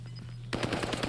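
Rapid automatic gunfire in the video game Warzone, a burst of repeated shots that starts abruptly halfway through and continues loudly, with no talking.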